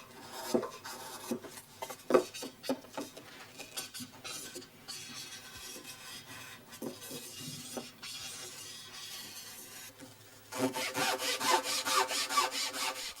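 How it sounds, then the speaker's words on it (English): A handsaw makes shallow cuts into the underside of wooden roof planks for a shrine, with short, irregular rasping strokes and scrapes that quicken into a louder, rapid rhythm near the end. "shallow saw cuts are made along the underside"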